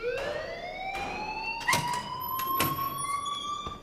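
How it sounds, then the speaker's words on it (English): A wailing alarm sounds in the video game Life Is Strange. It rises in pitch and holds loud and steady in the foreground, joined by a few sharp clanks and thumps, with no talking. "please turn off that alarm since that's your job"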